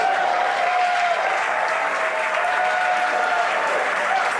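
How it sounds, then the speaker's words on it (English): A crowd at SpaceX Mission Control in Hawthorne claps and cheers steadily through a rocket landing, a dense, even wash of applause that never pauses. "Crowds cheering here at SpaceX Mission Control Hawthorne as we tune in to see if we stick the landing."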